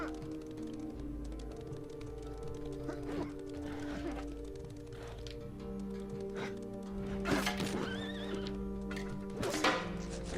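A horse in the video game Apotheon whinnies repeatedly over clopping hooves and a game music bed, with the neighs standing out sharply in the second half.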